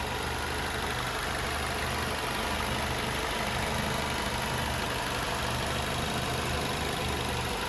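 A 2011 Ford Focus SE engine idles steadily and evenly at close range, a smooth constant low rumble with no odd noises or voices.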